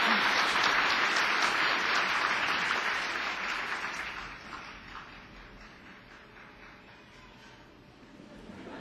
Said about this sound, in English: Oh, that was 14 claps.